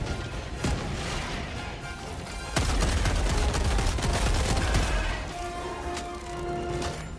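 Explosions and heavy gunfire burst from a Helldivers 2 battle as a thrown grenade detonates, with a loud, dense blast around the middle amid ongoing shooting and crashing.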